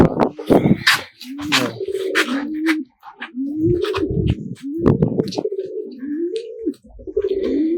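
Loud, close tumbler and timing pigeons coo in repeated throaty rolls in a loft, with rustling and scraping bursts between the calls.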